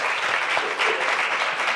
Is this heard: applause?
yes